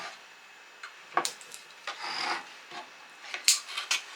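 Wooden bread board pieces, freshly cut with a jigsaw, are hand sanded with sandpaper in short rasping strokes that come in bursts, close and fairly quiet with brief pauses between.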